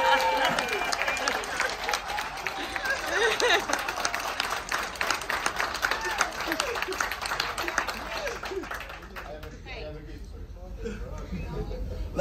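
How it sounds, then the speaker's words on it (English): Audience applause on the Carnival Elation cruise ship for Lincoln, crowned Spring Chicken, filling a large room with steady dense clapping for about ten seconds before thinning out, with voices talking over it. "Let's give a big round of applause to Lincoln"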